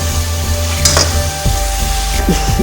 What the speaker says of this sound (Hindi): आप इसी तरीके से भून लें। गोश्त और शलजम